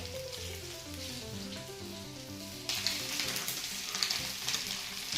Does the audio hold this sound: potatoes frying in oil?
yes